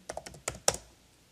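Quick typing on a computer keyboard: about seven crisp, close keystrokes in an irregular burst, then silence.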